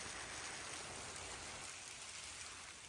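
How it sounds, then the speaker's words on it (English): Steady rainfall hissing evenly, a constant wash of drops with no pauses and no talking. "Now it's raining though, of course"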